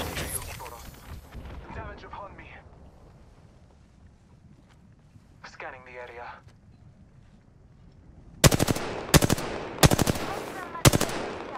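Gunfire in Apex Legends, loud close bursts of several heavy shots in a rough rhythm after a stretch of quieter game noise, with a voice talking early on.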